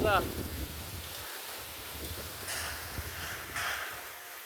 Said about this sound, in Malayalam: ഇതോ അവിടെ കണ്ടില്ലേ അതിശക്തമായ കാറ്റ്